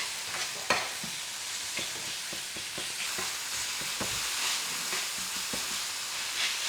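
Onions lightly sautéed in a pan for an egg dish, a steady close sizzle broken by repeated scraping clicks of a spoon stirring them, with no talking.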